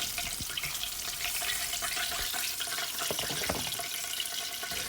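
Pork chops fry in hot oil with a dense, steady hiss and crackle, broken by scattered pops and spits throughout, close and even in level.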